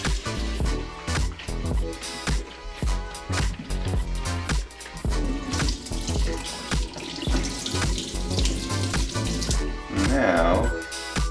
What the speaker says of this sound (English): Now I'm going to prime this, just rinse the film off with some water.